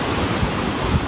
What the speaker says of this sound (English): this is where the spillway dumps off into this huge, beautiful waterfall